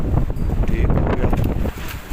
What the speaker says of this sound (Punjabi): ਵਾਹ ਦੀ ਆਵਾਜ਼ ਆਉਂਦੀ ਹੋਣੀ ਵੀ ਸ਼ੂਕਦਾ ਪਿਆ